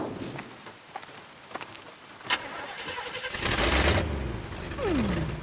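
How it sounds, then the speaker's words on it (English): A car engine in the video game Bayonetta starts with a rough rumble and then runs on close and fairly loud, following earlier clicks and mechanical clatter, with no talking. "Engine still purrs nicely."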